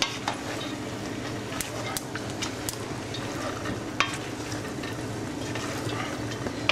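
Food being stirred in a hot iron-based pot, a low continuous sizzle under scattered sharp clinks and scrapes of a utensil against the metal.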